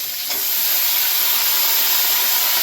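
Bottle gourd stalks hit a hot pan and start a loud, close, steady sizzle, a sharp hiss that swells after a quick initial burst and keeps going with no voices.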